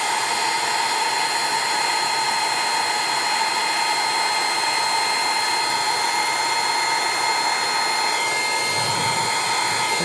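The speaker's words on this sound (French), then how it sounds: "ce qu'il faut faire avec le heat gun, c'est vous rapprocher de votre zone pour faire fondre la paillette" A heat gun blows with a steady, loud hissing whoosh while melting glitter, continuous and unbroken from start to finish with no talking.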